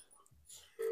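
Telephone dialing tones sound as someone places a call from a home phone, with a steady, clear tone rising at the end over faint background noise and talk.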